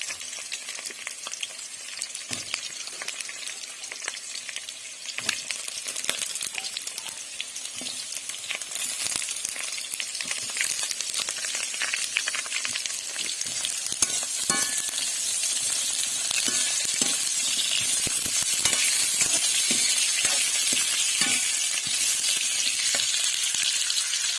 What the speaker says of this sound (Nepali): त्यही भएर पहिला आलुलाई फ्राई गर्नेछौँ।